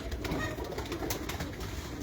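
Racing pigeons coo softly and continuously in a loft, a low murmuring bed with a few brighter flutters and scrapes on top, close and steady throughout.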